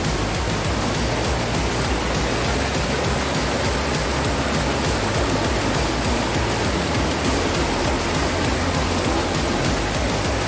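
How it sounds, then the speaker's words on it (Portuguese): Loud, steady rushing water in the Serra do Mar forest, a constant broadband roar like a nearby waterfall or torrent, unbroken and filling the whole scene with no voices. "É um barulho de água tremendo aqui."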